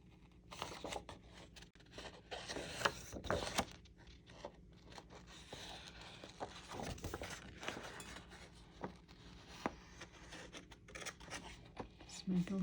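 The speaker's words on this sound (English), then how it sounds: "Cut both of those out." Paper planner pieces being snipped out with scissors, close-up crisp cuts and rustling paper handling in short irregular bursts, quiet throughout.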